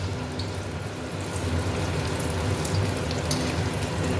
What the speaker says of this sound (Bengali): আর এদিকে ডিম ভাজাটা হতে থাক, ওইদিকে আমি পাঁপড়টা ভেজে নিই চটপট করে